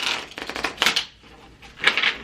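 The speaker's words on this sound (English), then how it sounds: "That was a crappy shuffle." Tarot cards shuffled by hand in a few quick riffling bursts, close and crisp, with short pauses between them and no talking.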